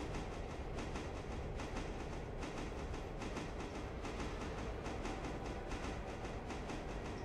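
A steam train pulling freight wagons in the video game Railroader rumbles steadily with a dense, continuous rolling noise and faint rhythmic clatter from the wheels. It is fairly quiet and plays without anyone speaking.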